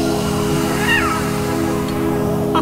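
An angry cat meows in the video game Christmas Stories 3: Tin Soldier, a single wavering cry heard near the middle over a steady musical hum.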